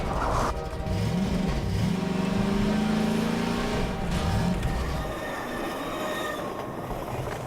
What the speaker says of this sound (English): Back up, because the train will kill us.